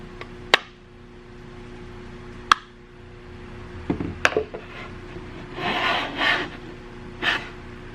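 Wood is shaved by hand, with sharp close knocks and then rasping strokes of the blade across the grain, some scraping passes longer and rougher than others, with no talk.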